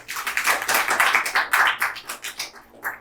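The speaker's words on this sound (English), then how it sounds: "इस पर clap बनता है." Small group of people at an institute's anniversary celebration claps, with distinct sharp individual hand claps in an uneven rhythm that gradually thin out near the end.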